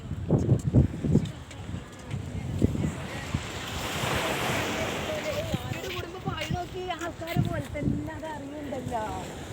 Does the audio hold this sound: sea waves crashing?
yes